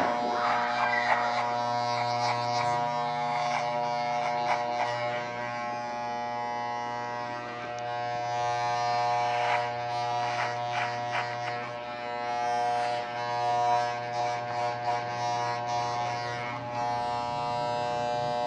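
An electric hair clipper trims the nape during a short men's haircut, giving a close, continuous buzzing hum that shifts slightly in pitch as it moves over the hair.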